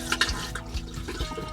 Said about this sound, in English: We've got a toilet here which has a flush, which is an electric flush